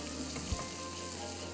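Spices fry in a pan as a little more oil goes in while a fish stew is being cooked: a steady close sizzle with one short, louder burst partway through.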